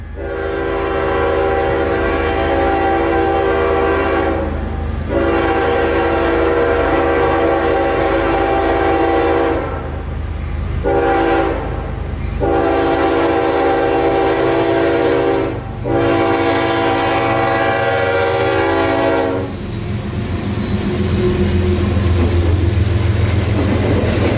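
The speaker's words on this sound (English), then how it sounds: "here is CSX train Q453 with a K5HLB leader slowing to a stop for a crew change at Lakeland" CSX freight train Q453, led by a locomotive with a K5HLB horn, sounds several long, loud chime blasts in a row as it slows to a stop for a crew change at Lakeland, Florida, then gives way to a low rolling rumble.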